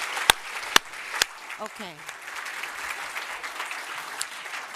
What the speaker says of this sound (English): with a big applause to the panel